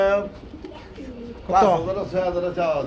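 Pigeons coo at a pigeon sale, soft throaty calls mixed in with someone talking over them nearby.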